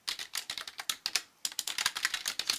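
Rapid clatter of typing on a computer keyboard, a dense run of sharp key clicks with one short pause midway, close and alone with no voices.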